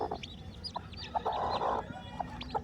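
A hen with newly hatched chicks clucks softly in short bursts amid other chicken calls and chirps, close by in a quiet home farmyard.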